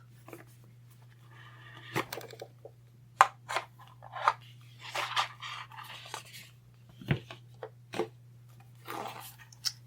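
Moonology oracle cards being shuffled and pulled: soft papery flicks and riffles in scattered bursts, with occasional sharper snaps of cards, close by over a steady low hum, no talking.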